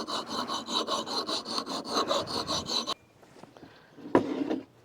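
A camping axe blade made from cheap Harbor Freight metal is sharpened with rapid, rhythmic rasping file strokes for about three seconds, then a few scattered scrapes and a knock.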